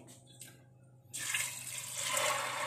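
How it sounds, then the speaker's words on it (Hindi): Water pours in a steady, rushing stream after a brief quiet start, filling a pressure cooker holding dal and growing slightly fuller toward the end. "और इसमें मैं डाल दूंगी ये पानी।"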